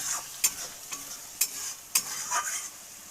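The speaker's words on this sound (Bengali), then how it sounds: "এখন ওটা ভালো করে আবার ভেজে নিব, আর তো গুঁড়ো মশলাগুলো দিব।" A paste of ginger, garlic and cumin fries in a pan, a steady hiss broken by several sharp scraping strokes of a spoon stirring it, close and clear with no voices.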